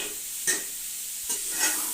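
Onions frying in ghee while a spoon stirs them, a continuous hot sizzle with two or three sharper scraping stir strokes standing out, close up and with no talk.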